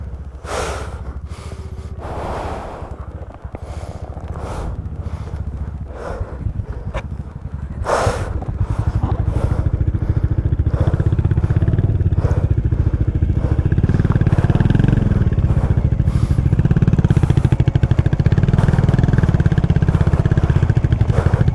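Motorcycle ridden on a snowy road in Spiti, engine revving in repeated bursts that settle into a steady, louder drone as it pulls away after a gear change, close up with no talk.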